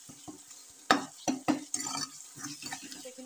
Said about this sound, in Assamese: গোটেইখিনি একদম বিলাহী পিঁয়াজ আদা নহৰু গোটেইখিনি একদম পূৰা ছফ্ট হৈ যোৱালৈকে ভাজি ল'ম